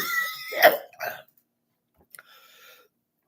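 A single sharp cough from a person with a cold, close and loud, followed by a short throat-clearing catch and quiet breathing.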